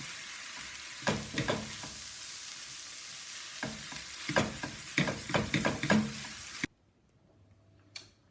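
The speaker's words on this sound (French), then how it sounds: "je vais mettre un peu d'huile d'olive. Je mélange tout et je fais cuire un petit peu la viande." Meat cooking in olive oil with sliced onions in a pan, a steady sizzle broken by clicks and scrapes of stirring, close up, cutting off near the end.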